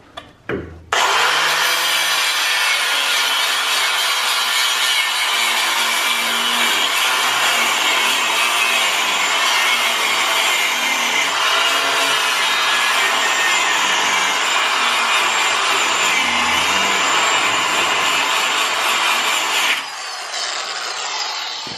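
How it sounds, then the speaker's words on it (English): A Sawzall reciprocating saw cuts through a Jeep Wrangler trac bar in one loud, continuous buzzing, rasping stretch of about twenty seconds, starting abruptly and stopping near the end, with no voices. "I can make a straight cut-ish with a Sawzall and clean it up with a grinder"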